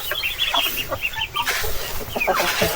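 Native farm chickens cluck and squawk close by in a busy flock, with overlapping short calls and rustling over a continuous outdoor background.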